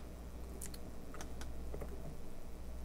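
Fast keyboard typing during a visual-effects compositing exercise in After Effects, a few quick clicks and taps spread over a few seconds, fairly faint above steady background hiss.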